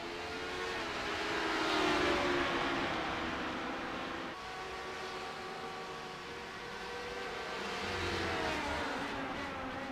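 Race car engines roar around Laguna Seca in a sportscar racing game, loud and sustained, with engine notes rising and falling as cars pass and shift, one car pushed to the limit and running wide into the dirt.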